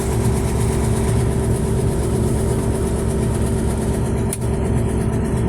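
A loud, steady diesel engine drone from a Don 1500B combine harvester at 1000 rpm, with heavy low rumble and vibration, running continuously up close at a constant speed.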